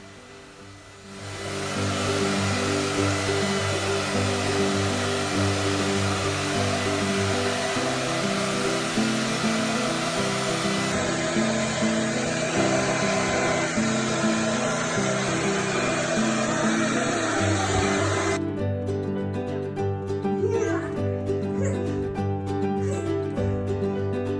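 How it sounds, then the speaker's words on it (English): A hair dryer blows steadily through a home bathroom at bath time, a loud continuous whooshing hum with a slight pitch shift partway through, running alone without any talk. "how's your blow dry?"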